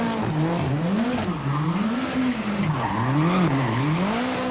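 A car slides in a controlled skid around a corner, tires squealing in wavering, rising and falling tones over steady engine noise, fairly close and continuous.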